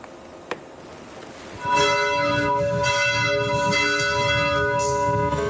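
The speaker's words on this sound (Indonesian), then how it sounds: "Gereja Katedral Jakarta membunyikan lonceng pada Sabtu sore bersamaan dengan pemakaman Paus Fransiskus" Church bells at Jakarta Cathedral ring during the funeral of Pope Francis, starting after a short quiet pause with a single faint knock, then pealing loudly and continuously with overlapping resonant strikes.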